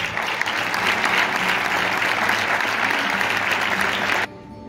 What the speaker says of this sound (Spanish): Foto y aplauso, por favor.